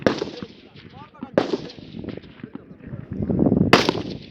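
Submachine-gun shots at a police firing-range training session, several sharp, loud cracks spaced irregularly over a few seconds, with an instructor's voice and range noise in between.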